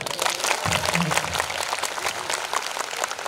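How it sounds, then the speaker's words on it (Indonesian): An audience applauds at a Friday religious gathering, a dense burst of clapping that carries on steadily throughout, with a voice briefly heard beneath it. "Tepuk tangan dong."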